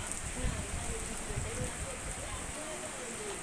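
Steady rain falls outdoors on an empty road, a soft, even hiss with faint patter, fairly quiet and continuous throughout.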